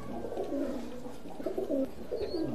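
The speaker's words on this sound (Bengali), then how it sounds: "এই এক পেয়ার উমানি টেডি কবুতর" A pair of Omani teddy pigeons in a high-flying pigeon loft gives soft, repeated cooing, close by and low-pitched, in rolling phrases over quiet background noise.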